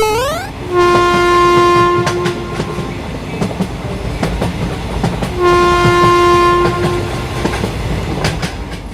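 A moving train sounds a loud, sustained two-part horn twice, over steady rumbling and clattering wheels on the rails.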